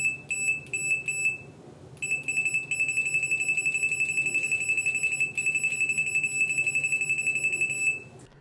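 A Fluke 177 multimeter's continuity beeper sounds loud, high and piercing up close, first in a few quick chirps, then in a long run of rapid, stuttering beeps with brief breaks.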